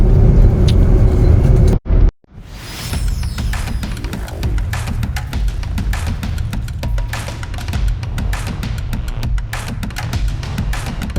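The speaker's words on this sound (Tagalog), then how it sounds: "Nasakay na kami sa bus. Papunta na kami ng Santa Cruz." Steady low engine rumble and road noise from inside a moving bus bound for Santa Cruz, Zambales, with a brief dropout near the start and faint clicks and rattles over the continuous drone.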